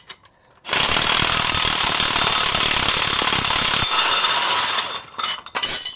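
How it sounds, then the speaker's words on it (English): Loud, continuous mechanical grinding and rattling of a power tool working the nut off an Audi wheel bearing, running steadily for several seconds before cutting off, then a few short metallic bursts. "Just get the nut off now."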